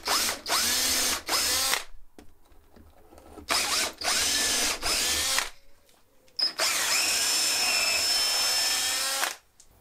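A power drill bores holes into wood in several bursts of loud, close whirring, each lasting a second or two with short pauses between, ending in one longer continuous run.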